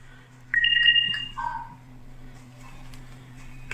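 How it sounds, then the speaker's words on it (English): A phone's low-battery chime gives a short series of bright electronic tones, then fades under a steady low mechanical hum in a quiet room. "if you heard a little chime on the video just now, that was my low battery signal from my phone"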